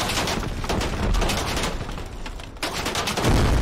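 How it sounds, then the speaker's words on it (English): Tank gunfire in the video game Squad, a continuous dense crackle of shots and booms at moderate level, with no voices. "Oh, geez, Rick, there's a tank! He's shooting at us!"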